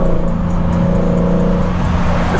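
A V8 car engine drones steadily while driving, a loud close hum holding a constant pitch with no speech over it.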